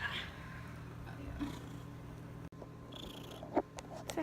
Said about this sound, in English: I can hear you purring already.